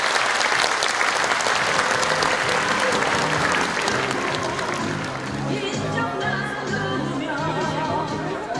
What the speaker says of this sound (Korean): 모두 큰 박수를 보내주시기 바랍니다.